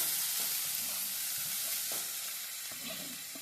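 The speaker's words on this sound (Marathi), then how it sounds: "तर आता आपण जी ही भाजी मिक्स करून घेतलेली होती ती त्याच्यामध्ये टाकायची आहे." Fried onions sizzle steadily in a pan for kapa while mixed vegetables go in, with soft stirring scrapes and light clatter over a continuous hiss.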